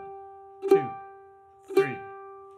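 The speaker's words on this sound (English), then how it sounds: "So we're going to play four quarter notes in a row with all downstrokes" A mandolin sounds two evenly spaced downstroke picked notes of the same pitch, each a crisp attack ringing out and fading, heard close and alone.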